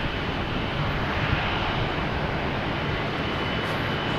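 An American Airlines A321 jet rolls for departure at Boston Logan, a broad, steady engine roar that holds at a constant loud level throughout.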